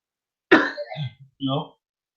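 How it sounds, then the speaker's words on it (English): A single harsh cough bursts out, followed by a couple of short rough throat-clearing sounds, close and otherwise quiet. "Now I'm coughing."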